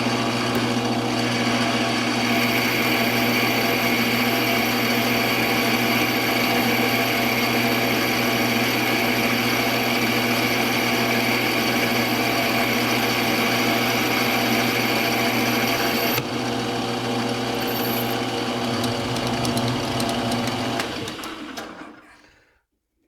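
A milling machine takes a light final cutting pass of two thousandths of an inch: a steady, close mechanical hum with a high cutting whine that holds for around twenty seconds before the spindle winds down and stops.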